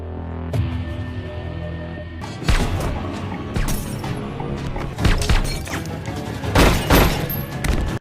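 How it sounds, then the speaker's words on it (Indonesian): Gunshots ring out in a tense club shootout from an action film, a quiet stretch giving way to several sharp, loud bangs and thuds scattered irregularly across the scene. "Yang ketika Jono sudah ada di sana, muncullah Stanley hingga terjadi tembakan di sana."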